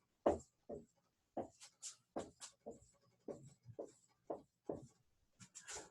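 Marker strokes drawing letters on a board, with a series of short, distinct squeaky scrapes in an irregular rhythm, close and fairly loud, with no talking.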